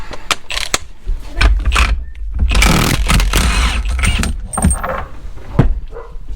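A half-inch impact gun works a 36 millimeter nut off a scrap car, with several short metallic taps and rattles, then a sustained loud whirring hammer burst, followed by more clanks close by.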